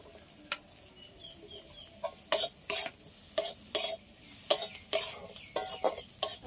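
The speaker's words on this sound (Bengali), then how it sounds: "নিম ফুল ভাজা হয়ে গেছে, এবার নামিয়ে নেব।" Neem flowers frying in a pan as a spatula stirs them, sharp scraping strokes in an irregular rhythm over a quiet, faint sizzle.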